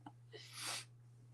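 One close sneeze, a short intake of breath followed by a sharp burst, heard over a low steady hum during an online psychic reading session.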